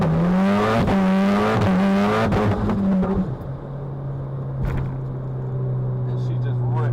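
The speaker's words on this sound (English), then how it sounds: "I'm gonna rip into it first gear." Turbocharged car pulling hard in first gear: a loud engine roar with shifting pitch under a talking voice for the first few seconds, then settling into a steady, lower drone.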